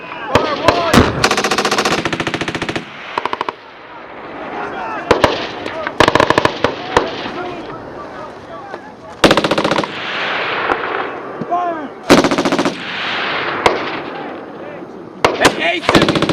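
Marine Corps machine gun section firing on a range at Twentynine Palms, long loud bursts of automatic fire repeating close by with short gaps between strings, and shouted commands in between.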